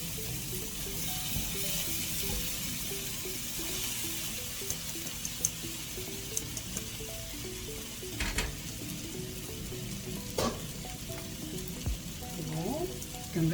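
Anchovies sizzle and crackle in hot oil with mayonnaise, a steady close frying hiss with scattered pops and a few sharper clatters, and no talk over it.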